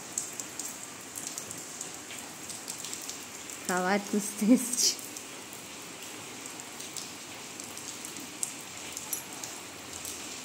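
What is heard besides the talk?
rain falling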